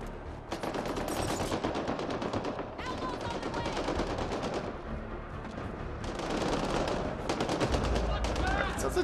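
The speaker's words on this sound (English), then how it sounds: "There's a lot of shooting going on inside of here." Rapid automatic gunfire rattles in bursts during a firefight in the video game Mass Effect: Andromeda, loud and dense with brief gaps, with some voices faintly underneath.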